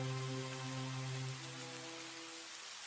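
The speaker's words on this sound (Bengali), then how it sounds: "দেখো এই বৃষ্টি ঠিক থেমে যাবে" Steady rain falling in a village, a continuous even wash under a sustained low hum, with no voices.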